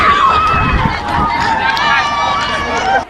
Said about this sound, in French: C'est la débandade totale